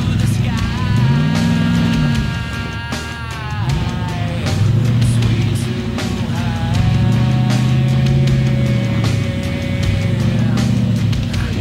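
A truck engine revs repeatedly in rising and falling surges while working off-road, loud and close, with faint voices in the background.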